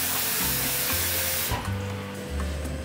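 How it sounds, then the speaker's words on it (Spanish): Water bubbling in a pot on the stove, a close, continuous hiss and rumble with irregular low pops, no talking. "El agua está hirviendo"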